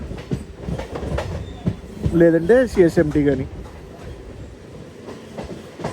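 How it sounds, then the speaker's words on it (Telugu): A train rumbles and clatters past on the adjacent track with steady rail noise, heard from aboard a MEMU train, while someone speaks over it. "పక్క ట్రాక్లో ఒక ట్రైన్ వస్తుంది"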